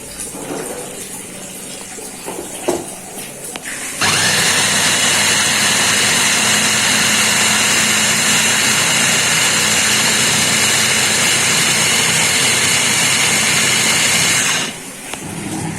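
A loud, steady high-speed whir of an electric blender grinding cooked rice with water starts abruptly, runs continuously for about ten seconds, then cuts off, with quieter kitchen noise around it.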